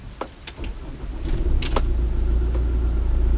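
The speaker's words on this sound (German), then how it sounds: "Wenn der Diesel anspringt." Keys jangle briefly before the diesel engine of a camper vehicle cranks and catches, settling into a steady, close, low idling rumble for the rest of the clip.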